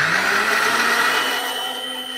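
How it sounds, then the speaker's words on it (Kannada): A kitchen mixer grinder churns vada batter with a steady, close, high-pitched motor whir that fades slightly over a couple of seconds, with no voices. "ಇವಾಗ ರುಬ್ಬಿ ಕೊಂಡಿದ್ದು ಆಗಿದೆ."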